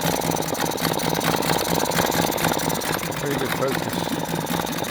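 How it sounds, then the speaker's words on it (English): A Mariner 3.3 hp outboard motor idles after a carburettor strip-down, a steady loud buzzing drone with no breaks, while a voice speaks briefly over it. "Okay, that's on full idle."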